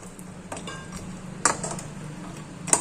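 A spoon stirs packaged sing bhujiya into a pot of buttermilk, giving a few close metallic clinks and scrapes against the pot under a steady low background, with no talking.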